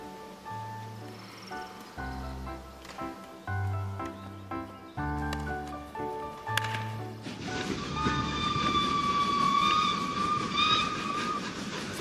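A train on the Semmering mountain railway in Austria, with tonal whistle notes at first, then a loud, steady rushing hiss carrying sustained whistle tones.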